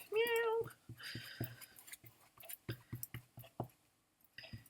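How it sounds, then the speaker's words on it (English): A pet cat gives a short high meow close by at the start, followed by soft tapping and mouth sounds, with a person speaking quietly in between. "My cat thinks she wants her second breakfast."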